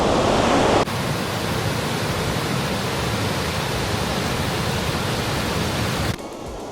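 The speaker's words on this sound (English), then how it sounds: "This fast-flowing waterfall is actually one of 3 multi-step waterfalls" Steady, dense roar of fast-flowing Aysgarth Falls, a multi-step waterfall in the Yorkshire Dales, England, broadband and constant, with a brief cut in level near the start and end.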